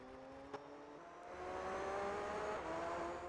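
Race cars in Gran Turismo 3, with a Jaguar XJ220 among them, engines droning with rising harmonic whine as they accelerate, a steady continuous roar growing louder midway, no talking.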